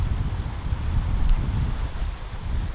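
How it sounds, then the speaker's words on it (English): Strong gusting wind of about 35-40 km/h roars and buffets the microphone beside a rough lakeshore, a continuous low rumble swelling slightly in gusts; no voices. "The wind's ripping."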